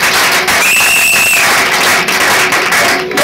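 A congregation applauds at a church wedding, a dense, sustained patter of many hands clapping throughout, with a brief tonal whistle-like sound riding over it early on.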